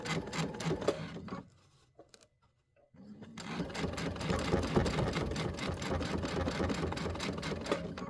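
Sewing machine joining two thick quilt pieces, a loud close mechanical whir that runs, stops briefly for about a second, then resumes steadily, with no voices.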